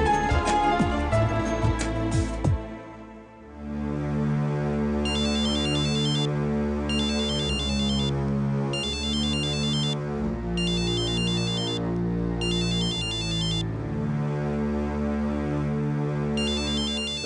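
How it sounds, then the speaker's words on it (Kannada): A phone ringtone for an incoming call plays a repeating electronic melody of steady bursts after a brief musical lead-in, loud and clear with no voices over it. "ಗೌರವ್ ಕಾವ್ಯ ಫೋನ್ ಮಾಡ್ತಿದ್ದಾಳೆ."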